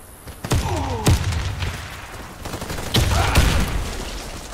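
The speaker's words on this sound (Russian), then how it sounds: "Осторожно, граната! Граната!" Gunfire and a grenade blast in a competitive online shooter match, with sharp shots around half a second and one second, then heavy bursts near three seconds amid loud chaotic effects.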